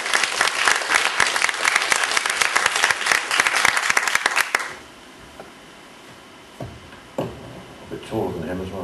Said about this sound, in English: I think at least a round of applause.